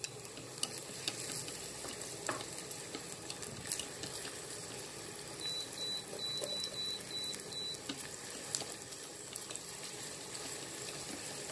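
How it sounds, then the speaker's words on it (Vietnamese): Garlic and shallots sizzle steadily in hot cooking oil in a pan, a continuous close frying hiss with faint crackles running throughout, no voices. "Dầu ăn nó nóng quá thì giờ mình sẽ cho cái tỏi với cái hành này vào nha các bạn"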